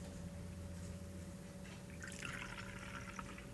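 A faint splash of water and vinegar poured into a container for a homemade stainless-steel cleaning mix, a brief trickling pour arriving midway over a quiet hum.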